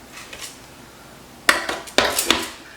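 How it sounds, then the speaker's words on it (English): A utensil clinks and scrapes against a pot while freshly harvested produce is stirred, with a few sharp knocks close by and quiet moments between them, and no talking. "let's kind of stir this up and see if it's going to stick together better"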